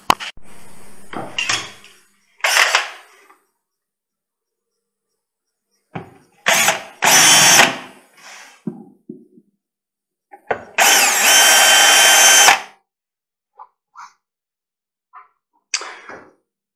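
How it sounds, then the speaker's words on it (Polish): Cordless drill-driver boring holes with a 5 mm bit into a cabinet front while fitting a Blum Aventos lift mechanism: several short, loud whirring bursts separated by silences and small clicks, one longer sustained run near the end. "biorę wiertło piątkę, biorę wkrętarkę i już Wam pokażę"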